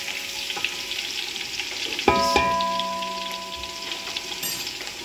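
Garlic sizzles in hot oil in an open pot while a wooden spoon stirs it for a mixed pickle, giving a steady frying crackle broken by a few sharp knocks and scrapes of the spoon against the pan.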